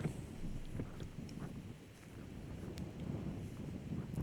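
Outdoor wind buffets and rushes steadily across a disc golf course during a tournament round, a broad continuous roar with faint gust swells and no clear voices.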